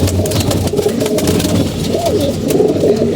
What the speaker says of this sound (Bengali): কবুতর মারামারি করে